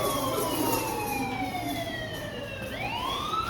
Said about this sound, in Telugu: అండ్ ఇంకో అంబులెన్స్ వస్తున్నట్టున్నది.